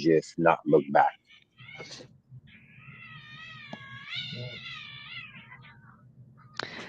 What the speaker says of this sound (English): I think there's two cats fighting somewhere.